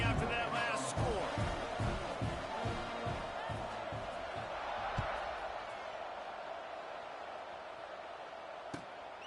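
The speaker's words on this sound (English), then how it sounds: "this crowd is buzzing after that last score" Broad crowd buzz fills a football stadium during a tense fourth-quarter college game against Ole Miss. A steady roar of voices carries throughout, with a few thumps early and a sharp knock near the end.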